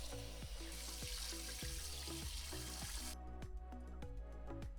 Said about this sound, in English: Wash the buckwheat well.